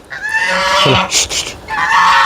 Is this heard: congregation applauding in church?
no